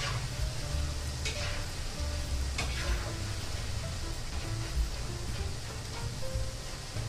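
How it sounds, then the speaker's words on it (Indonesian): Macaroni frying in hot oil while being stirred, a steady dense sizzle and crackle running throughout with occasional scraping stir sounds, close and continuous with no talking. "Nah ini diaduk terus sampai minyaknya tenang"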